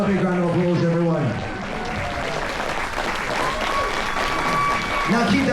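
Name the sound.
audience applause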